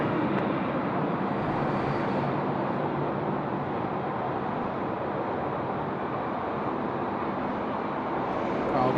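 A Virgin airliner takes off at Sydney Airport, heard as a steady, broad jet roar that holds evenly at fairly loud level for the whole stretch with no talk over it.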